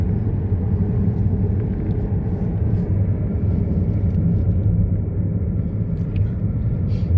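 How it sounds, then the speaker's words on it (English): A taxi climbs a snowy road with a steady, loud low rumble of engine and tyres that stays unbroken throughout, with no talking. "We're driving up in the snow now."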